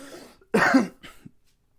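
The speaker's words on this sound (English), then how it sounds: "Just get that cough out of the way" One sharp, close cough followed by a smaller second cough, then silence.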